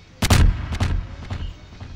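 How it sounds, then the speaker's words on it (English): Fireworks going off in the video game Garry's Mod: a few sharp bursting bangs in quick succession, the first pair loudest, followed by fainter pops, with no talking. "It's a fireworks!"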